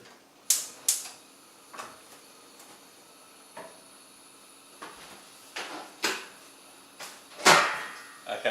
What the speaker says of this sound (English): That was the noise of the rice cooker.